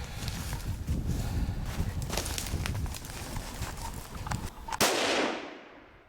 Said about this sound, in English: Put a bullet in him, Jim.